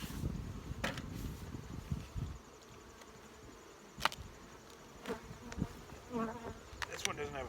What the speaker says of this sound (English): They're packed full of bees.